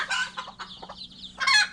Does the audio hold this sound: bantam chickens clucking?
yes